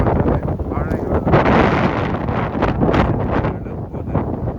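Strong wind gusting through a heavy snowstorm in Toronto, Ontario, roaring in loud, steady broadband rushes with buffeting against the microphone throughout.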